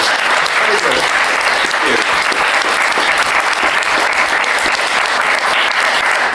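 Sustained audience applause fills a comic convention panel room, loud and steady for several seconds, with some voices mixed in beneath the clapping.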